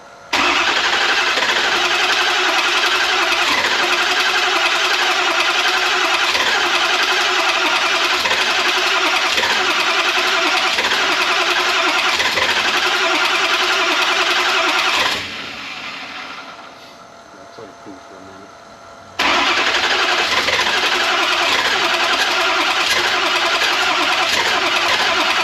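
A swapped-in Power Stroke diesel in a 1972 Ford F250 cranks hard and continuously up close, cuts out briefly to near quiet, then resumes cranking just as loudly.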